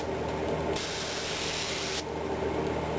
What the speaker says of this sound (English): I've adjusted my airbrush down to get a finer line.